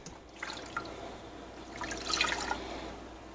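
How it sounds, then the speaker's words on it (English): Two cups of water pour steadily into a pot holding chicken and butter, with light splashing and trickling, a soft continuous liquid sound close by with no talking. "I'm also adding 2 cups of water to them."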